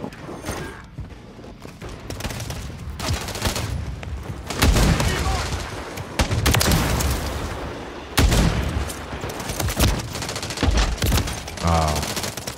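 Sniper rifle shots crack out in Call of Duty: MW3, several loud, spaced reports amid other gunfire and game noise, with a player talking over the action.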